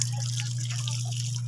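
Water is poured over someone being shampooed, a faint trickling and splashing over a steady low background hum.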